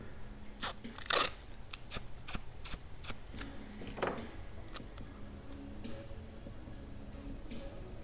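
Tape is pulled off a roll and torn in a quiet workshop setting while preparing a chain for airbrushing: a series of short, close crackling rips and snaps, one sharper tear standing out, with softer handling noises between.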